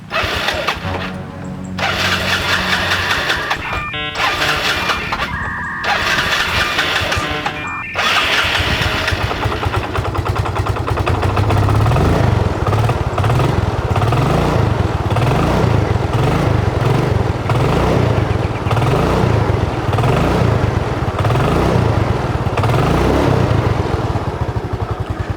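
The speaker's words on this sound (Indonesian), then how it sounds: "Mesinnya itu masih halus sekali guys. Coba ini kita dengerin sebentar ya." A Yamaha Mio Sporty scooter engine cranks in a few short starter bursts, then catches and settles into a steady, close, evenly pulsing idle that carries on alone.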